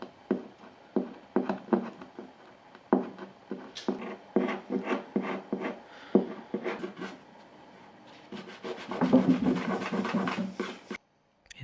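A rag rubs and wipes damp glue off an antique wooden chest of drawers in a series of short, close scrubbing strokes, followed by a steadier stretch of rubbing before it stops.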